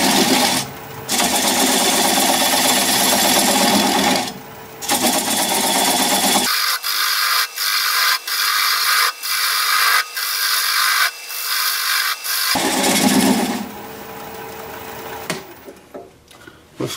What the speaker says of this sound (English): Going to grab a 3/8 inch bowl gouge and commence to removing that tenon.